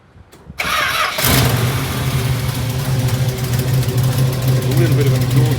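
A barn-find Plymouth Barracuda engine cranks briefly, then catches and settles into a loud, steady idle close by for several seconds, with a slight exhaust leak at the front.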